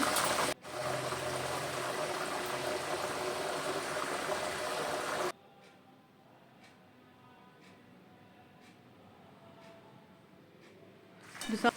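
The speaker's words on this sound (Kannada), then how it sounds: "ಉಪ್ಪಿನ ನೀರು ಹಾಕಿದ ನಂತರ ಈ ಥರ ಸೌಂಡ್ ಬರ್ತದೆ" Jackfruit chips frying after salt water is added: a loud, steady bubbling hiss, cut off abruptly, followed by a quieter stretch with faint periodic ticks and a brief clatter at the end.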